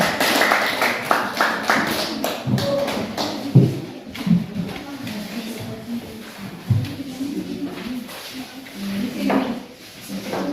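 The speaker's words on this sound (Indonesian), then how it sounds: "Tepuk tangan untuk kelompok 1" A classroom of teachers applauds a small group called up to present, with irregular hand claps and some shuffling that carry on for several seconds at moderate loudness, mixed with faint room noise.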